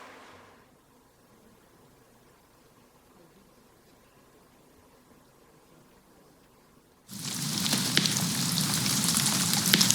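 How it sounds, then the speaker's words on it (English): Rain in The Witcher 3 pattering onto tree leaves in a forest swells in after a quiet stretch, becoming a dense, loud, steady hiss of drops that fills the second half. "And you can hear additional layer of leaves contact in forests."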